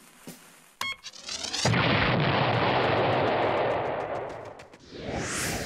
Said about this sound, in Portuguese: Chile tinha uma bombinha e apertou o botão que não é de mentirinha.